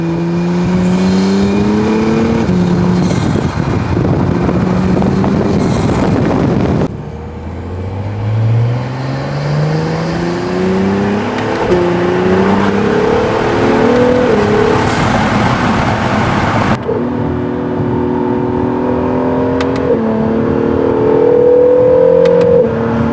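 An NC1 Acura NSX fitted with an aFe dry intake filter is heard while driving, its engine revving up through gears in repeated rising sweeps with intake suction and whir, loud and close, broken by a few cuts.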